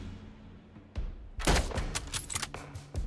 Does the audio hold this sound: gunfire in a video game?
yes